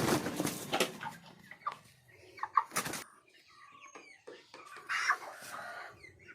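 Broiler chickens forty days old, kept in a shed, cluck and chirp in a loose, irregular scatter of calls at moderate distance, with brief bursts of wing flapping and shuffling between them and no talking.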